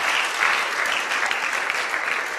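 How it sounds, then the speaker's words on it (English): A church congregation at a Sunday service claps together in a steady, loud wash of applause, sustained without pause. "Let's clap for the Lord."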